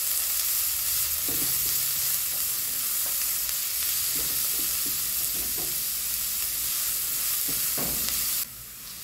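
Onion sizzles as it fries in a pan for beef nachos: a continuous, loud crackle up close with a few stirring knocks, alone until it cuts off near the end.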